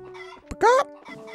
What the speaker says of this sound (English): Love chickens.